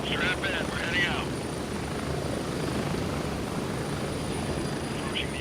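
A helicopter in the game Gray Zone Warfare flies with a steady, close rotor and engine drone throughout, while a brief voice cuts in over it at the start and near the end.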